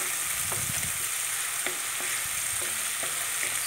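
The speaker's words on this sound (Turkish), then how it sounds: "Soğan ve sarımsaklarımız kavruldu." Steady sizzling from onions and garlic frying in a hot pan, with a few light clicks and stirring taps scattered through; no voices.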